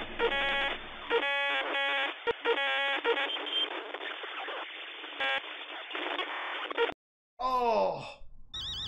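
A loud, steady alarm sounds in a horror video game, with rapid repeating pulses. It cuts off abruptly near the seven-second mark, and a short, wavering moan-like vocal sound follows.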